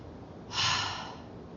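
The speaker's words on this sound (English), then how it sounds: "Deep breath." A single deep breath drawn in and slowly let out, close and fairly soft, standing out briefly against a quiet room background.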